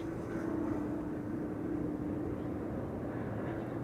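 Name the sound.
Embraer 190 airliner landing at Schiphol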